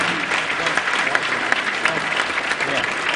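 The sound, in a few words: audience applause at induction ceremony dinner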